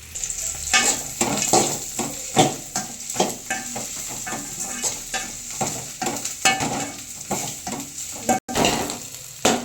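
Blood fry (ratha poriyal) deep-fries in a pan with a steady close sizzle, broken by repeated scraping and stirring strokes at an uneven rhythm, with no talking.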